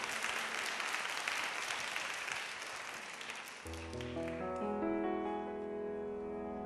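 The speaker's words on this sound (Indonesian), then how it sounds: "Tepuk tangan buat Tuhan kita." Congregation applauding during an evening church service: a sustained wash of clapping for a few seconds that fades as a sustained keyboard or organ chord begins and carries on alone.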